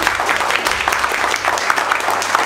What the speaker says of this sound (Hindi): ये ताली इन लोगों के हार्ड वर्किंग के लिए